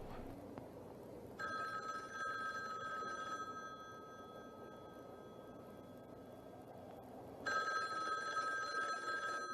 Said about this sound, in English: the phone rings as the credits start to roll